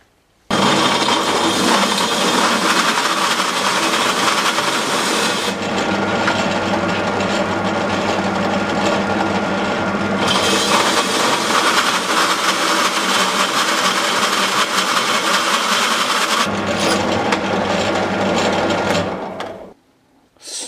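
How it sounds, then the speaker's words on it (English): A Starrett hole saw drills steadily through metal ladder parts lubricated with Westway thread cutting oil, a loud continuous whining grind with a few brief pauses and shifts in pitch before it stops near the end. "So I've got a trusty Starrett hole saw here, which I always use Starretts."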